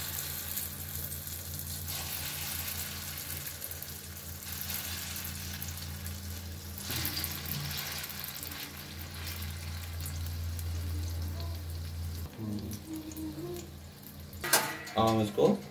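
Munglet batter, a vegetarian moong-dal omelette, is poured into hot oil in a pan and sizzles steadily, with a few metallic pan and utensil clinks near the end.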